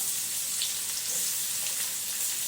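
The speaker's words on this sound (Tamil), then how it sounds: "பாருங்க, கடுகு நல்லா பொரியுது" Mustard seeds spluttering in hot oil for Malaysian-style nasi goreng with ikan bilis, a steady close crackle and sizzle that continues without a break and with no voices over it.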